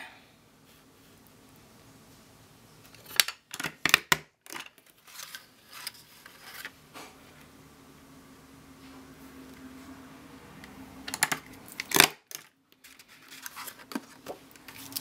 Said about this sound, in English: I'm going to use my scallop punch to just punch a border on one end of this cardstock